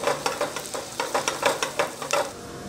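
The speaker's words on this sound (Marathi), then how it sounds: "गरम तेलामध्ये आपण यामध्ये आता जो बारीक चिरलेला कांदा आहे हा टाकतोय" Finely chopped onion frying in hot oil, with a steady sizzle broken by rhythmic, repeated stirring scrapes in quick succession, close and clear with no talking.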